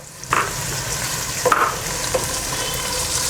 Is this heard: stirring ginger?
yes